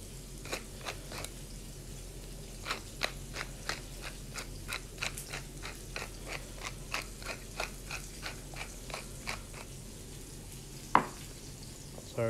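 Steaks frying in a pan give off a steady low sizzle, with a run of sharp clicks and scrapes from stirring and utensils repeating irregularly on top, fairly close and without talk.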